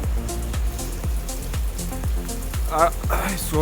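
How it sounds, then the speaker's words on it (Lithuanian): Light rain falls steadily from above outdoors, a soft continuous patter of drops under a rhythmic, repeating background pulse throughout. "čia iš viršaus lyja"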